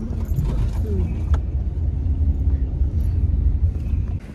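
A car engine rumbles steadily throughout as the car drives uphill, with a low droning hum and faint rattling, as if heard from inside the moving vehicle.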